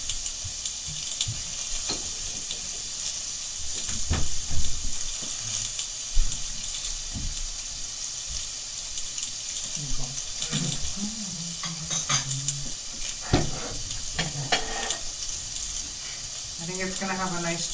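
Korean beef sizzles on a very hot BBQ grill during a mukbang meal, a steady frying hiss with scattered clinks and scrapes of utensils running throughout.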